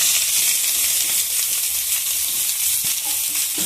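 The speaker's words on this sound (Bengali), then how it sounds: "কড়াই বসিয়ে দিয়েছি কড়াইয়ের মধ্যে কি তেল দিয়ে দিচ্ছি এবারে ডালটা দিয়ে দিচ্ছি" Lentils (dal) hit hot oil in a wok, producing a loud, close, hissing sizzle that holds steady for the whole few seconds, with faint stirring scrapes and no talking.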